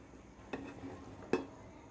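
A spoon scrapes and clinks against a pan while tomato rice is stirred, two distinct taps standing out against a quiet background.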